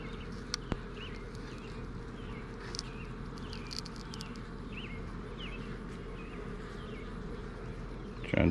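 Honeybees from a crowded, aggressive hive buzz steadily around the opened box, a dense continuous drone close to the microphone with a few sharper passes of individual bees flying by.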